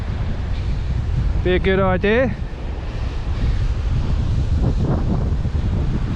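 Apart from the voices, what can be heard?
howling wind blowing on the microphone by the sea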